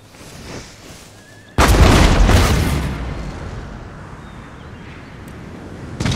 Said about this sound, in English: Let's do explosive shells.